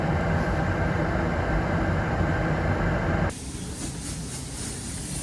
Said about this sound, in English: Blowing the cab out now